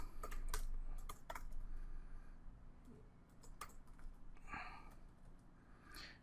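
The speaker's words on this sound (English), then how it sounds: "And typing in here is pretty straightforward." Fingers type on a computer keyboard while text is entered in a basic website editor, producing quick bursts of light key clicks with short pauses and a few louder taps, close and quiet, with no voices.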